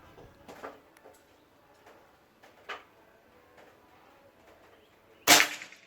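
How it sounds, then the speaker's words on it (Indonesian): A PCP air rifle with a sonokeling wood stock fires a single sharp, loud crack near the end, after several faint clicks and handling taps in a quiet setting. "Tembakan terakhir ya"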